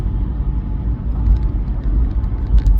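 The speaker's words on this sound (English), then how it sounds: "I'm driving in my car." Steady low road rumble of a car in motion, heard from inside the cabin, loud and continuous with no talk.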